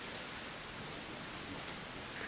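A steady wash of rain from the Dark Souls II video game hisses evenly throughout, soft and continuous with no distinct drops or voices.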